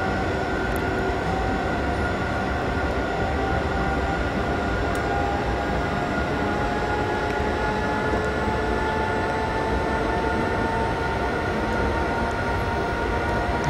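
A train driving in the TS2015 train simulator game produces a steady, continuous rumble of wheels and motor with faint tonal whines, unbroken and even for the whole stretch.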